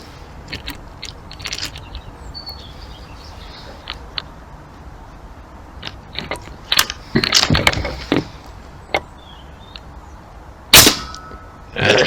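An AP900 air pistol firing pellets at a tin can, with sharp clicks and snaps of shots and pellet hits scattered among mechanical handling noises, with one louder crack near the end.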